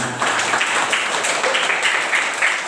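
A classroom of students applauds, a dense, steady patter of many hands clapping together at moderate loudness, sustained without a break.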